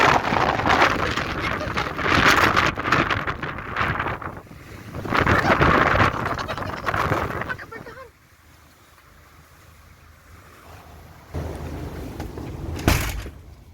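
Strong wind in a snow storm on Svalbard roars and buffets the microphone in loud gusts, easing to a quieter rush after about eight seconds before a final sharp blast.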